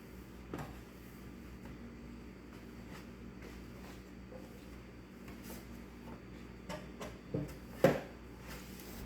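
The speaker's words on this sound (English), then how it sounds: "I can just knock them right out of the bottom of it" A plastic refrigerator drawer is tipped up and knocked to shake loose crumbs, giving a few soft, scattered knocks and clatters in a quiet room, the sharpest knock coming near the end.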